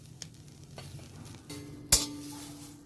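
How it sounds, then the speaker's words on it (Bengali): Neem leaves are stirred dry in a pan with no oil, giving soft scraping and faint crackle, with one sharp metallic clink partway through, all quiet and close. "এইভাবে আমি নিম পাতাগুলো ভেজে নিচ্ছি তেল ছাড়া"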